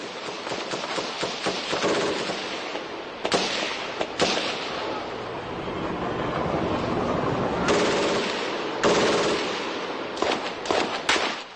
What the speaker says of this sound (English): At MG3 spitting.